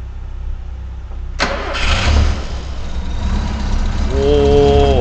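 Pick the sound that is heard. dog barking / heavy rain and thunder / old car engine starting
old car engine starting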